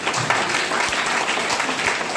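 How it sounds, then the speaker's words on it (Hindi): Audience applause at a talk about organic DXN products, a dense steady burst of clapping from a crowd, close and loud, with no voices over it. "ठोको ताली भगवान के लिए"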